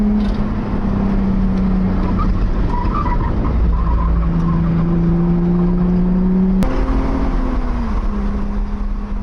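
BMW E36 engine revving on a road course, a loud sustained drone whose pitch climbs and shifts through gear changes, heard steadily from nearby with faint tire noise.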